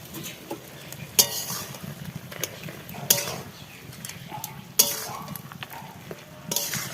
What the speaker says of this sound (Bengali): একটু নাড়াচাড়া দিয়ে আবার দেব ঢাকনাটা